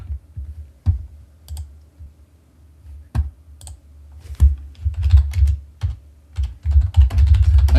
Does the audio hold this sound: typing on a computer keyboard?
yes